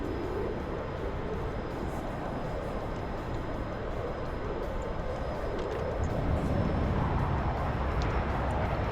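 Inside the cockpit of an F-14B jet during a solo aerobatic display, a steady, loud, broadband engine and airflow roar runs throughout with no breaks, swelling slightly near the end.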